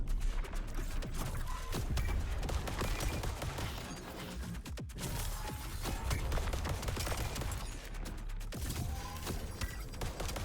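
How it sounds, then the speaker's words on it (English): Dense bursts of explosions and rapid gunfire in the video game Void Breaker, loud and continuous with sharp booms throughout, no speech. "So many explosions."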